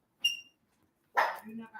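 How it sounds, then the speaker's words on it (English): A dog barks in the background of a home, two sharp bursts separated by a pause, the second longer and fuller. "I got my dog over there barking, right?"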